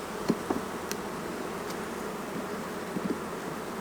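Honeybees buzzing around an open hive box during an inspection, a soft continuous hum with a few closer individual bees passing by, no talking.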